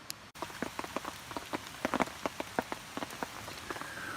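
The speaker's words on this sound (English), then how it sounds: "It continues to rain." Rain falls at a wooded lakeside campsite, with distinct heavy drops tapping on a nearby surface at irregular intervals over a soft steady patter, and no voices.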